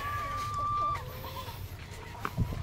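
Goats bleating on a backyard farm in the Philippines, kept alongside chickens on a drizzly, stormy day. One drawn-out bleat stands out near the start, followed by softer animal sounds and a low steady background rumble.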